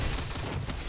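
Rapid gunfire from the Counter-Strike video game, a dense, loud burst of overlapping shots that fills the whole second with no talking.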